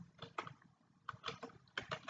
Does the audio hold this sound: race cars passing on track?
no